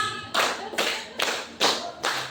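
A group of adults claps in a counted rhythm: five sharp, separate bursts of clapping, evenly spaced about half a second apart, each a crisp collective slap that fades quickly, with no talking between them.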